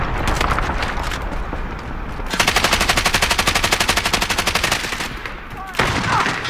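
Automatic gunfire rattles in Call of Duty, a loud, rapid, evenly spaced burst lasting a few seconds. Heavier blasts and game noise come before and after it.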